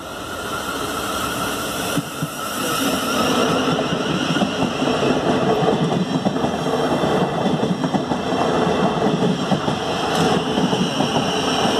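A Class 707 electric train passes the level crossing at Egham station in Surrey, building to a loud, close rumble with rhythmic clickety-clack of wheels over rail joints and a steady high motor whine, no talk.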